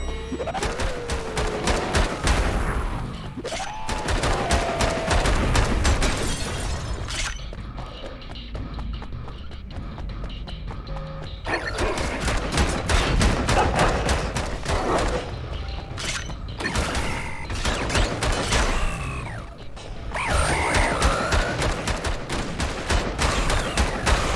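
Enemy gunfire in the roguelike shooter Bunker Punks, rapid repeated volleys with mechanical clanks and thuds, broken by a quieter stretch midway before the shooting resumes.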